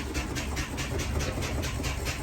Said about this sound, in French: On va pomper les freins jusqu'à temps qu'ils atteignent évidemment 80 livres, tout en ayant le moteur fermé.